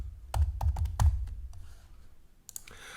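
Quick keystrokes on a computer keyboard, a short cluster of close clicks and taps followed by a pause and two more clicks, fairly quiet.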